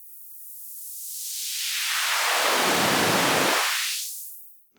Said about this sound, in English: here's the complete white noise, and we can filter out